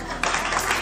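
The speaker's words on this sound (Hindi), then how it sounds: "तालियां" Audience clapping at a spiritual discourse with a swami on stage, a brief steady patter of many hands heard close and fairly loud throughout.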